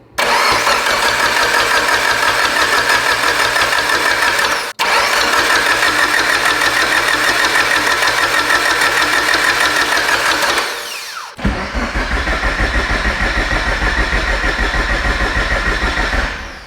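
A Mitsubishi Evo engine being rebuilt for 800 whp cranks over on the starter before its first start, a loud rapid rhythmic churning in long bursts with brief pauses between, without catching.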